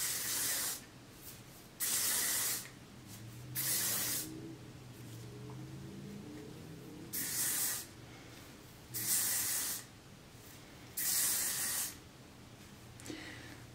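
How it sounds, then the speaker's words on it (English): Ouai soft hairspray sprayed onto hair in five or six short, hissing bursts about a second long, separated by quiet pauses, close to the microphone with no talking. "Now for hairspray, I normally like going in with the Ouai soft hairspray here."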